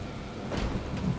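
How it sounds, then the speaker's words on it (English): Rain falls steadily in a thunderstorm while a low roll of thunder swells briefly, moderately loud and without voices. "It begins with a storm."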